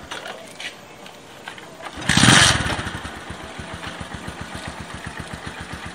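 A client's motorcycle at a motorbike garage in Douala, Cameroon, revs briefly and loudly, then settles into a steady, rhythmic idle that chugs on nearby.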